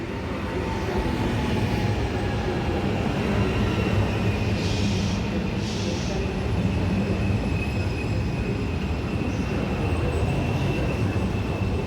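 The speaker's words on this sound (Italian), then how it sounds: "The Trenitalia Regional Train 3357." A Trenitalia regional train rolls through Rimini station, a steady loud rumble of wheels on rails with faint squeals, heard alone without voices.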